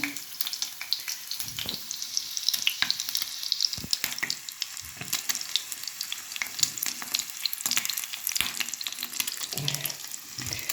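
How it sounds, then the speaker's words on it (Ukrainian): Meat patties fry in a pan on an electric stove with a steady, dense crackle and spitting sizzle that continues without pause, close by and with no voices. "Ось вже я смажу свої котлетки."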